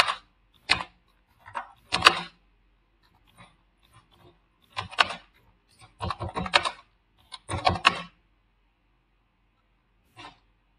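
A prompt is typed on a computer keyboard in irregular bursts of crisp key clicks, with short quiet pauses between the flurries and a single faint tap near the end.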